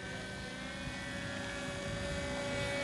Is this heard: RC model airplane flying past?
yes